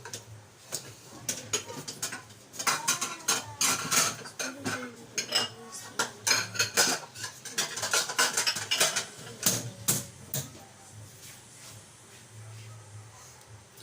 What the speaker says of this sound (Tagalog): hugasin po natin dito sa may tauban